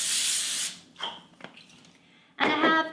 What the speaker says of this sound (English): give it a light spray with cooking spray